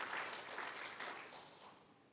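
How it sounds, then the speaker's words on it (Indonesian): Church congregation applauding during a Sunday worship service in Indonesia, a steady broadband patter of many hands that holds fairly even then eases slightly toward the end. "Berikan dulu tepuk tangan."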